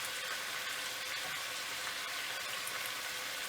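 Jamaican-style brown stew turkey neck stirred and browning in a pot, a quiet continuous sizzle with faint spoon movements through the hiss, no speech.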